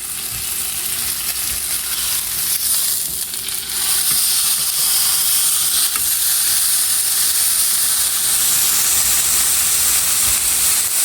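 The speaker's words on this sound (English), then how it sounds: "we're just going to brown the sides of this. Put it right in the frying pan." A pot roast sears in a hot frying pan as its sides are browned. A loud, continuous hiss and sizzle runs throughout, with occasional faint clinks.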